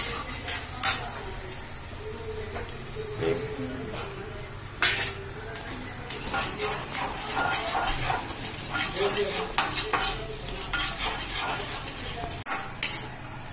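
Egg vermicelli stirred in an iron kadhai, with a steady sizzle of frying under repeated scraping and clinks of a utensil against the metal pan, close and fairly loud.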